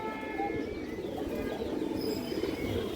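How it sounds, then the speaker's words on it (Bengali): A black-beaked, short-beaked female gorra pigeon coos softly and repeatedly, with light chirps, over a constant hiss of background noise. "কালো ঠোঁটের একটা গররা মাদি কবুতর, বুট ঠোঁট"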